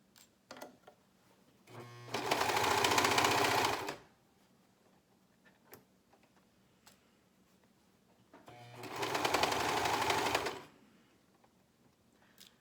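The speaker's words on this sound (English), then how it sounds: "make sure that you take out your pins as you go so that you don't serge on top of them" A serger stitching a scrub cap runs in two loud, steady whirring bursts of about two seconds each, separated by quiet handling clicks of fabric and pins.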